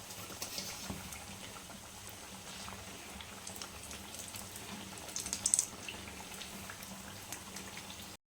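Vegetable chops deep-frying in oil, heard as a steady, soft bubbling and fizzing close by throughout, with no talk.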